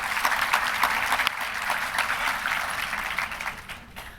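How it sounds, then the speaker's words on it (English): An audience at the South Dakota Hall of Fame inductee brunch applauds warmly, a full, steady wash of clapping that slowly thins and fades out toward the end. "Let's give them all a round of applause for their service."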